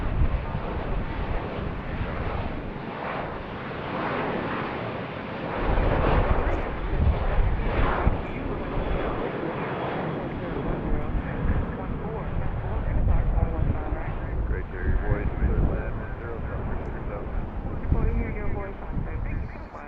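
A Southwest Airlines jet in the Missouri One livery departs BWI, its broad engine roar steady and fairly near for the whole stretch, swelling slightly partway through, with a voice talking over it.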